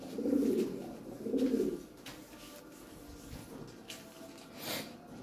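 First-class, large-sized Lahore pigeons, kept as a pair, coo twice in quick succession up close, followed by quieter rustling and a short sharp snort-like sound.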